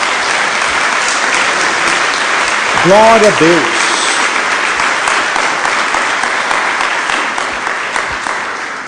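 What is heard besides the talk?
church congregation applauding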